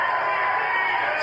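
A large crowd at a Patriot of the Year 2024 event roars with steady cheering and whooping, loud and continuous throughout, with no pauses or single voices standing out.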